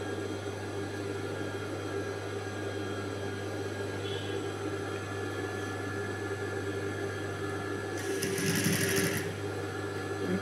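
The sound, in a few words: sewing machine stitching a blouse patti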